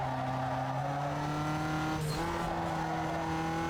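A race car engine drones steadily at high revs in Need For Speed Underground 2, its pitch shifting partway through with a brief screech of tires, loud and continuous.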